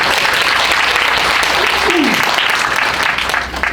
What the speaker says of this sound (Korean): 이럴 때 박수 치는 거 맞습니다.